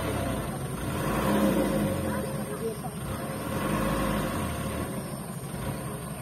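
Dump truck engine revving and labouring on extreme terrain, a mid-pitched roar swelling and easing as it strains, close by, with a voice talking over it.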